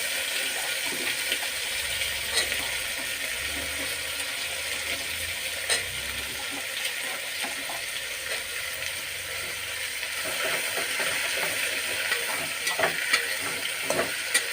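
Bottle gourd pieces, peanuts and green chillies fry in hot oil, giving a steady close sizzle broken by stirring clinks and scrapes, with no talking.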